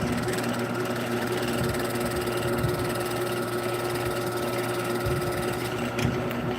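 A lathe spinning at about 1,140 rotations a minute gives a steady, close, humming drone with sustained tonal whine and no breaks.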